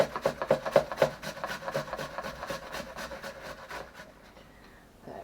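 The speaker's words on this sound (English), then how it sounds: "you take your peeled potato and you grate that into the bowl as well" A peeled potato is grated into a bowl for vegetable croquettes, giving a rapid series of rough rasping strokes, close and distinct at first, then fading into softer scraping before stopping.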